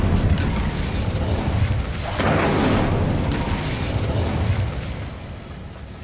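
Incendio fire spell cast in Hogwarts Legacy, a whooshing fiery burst that swells around the two-second mark over a steady rumbling game backdrop, then gradually tapers off.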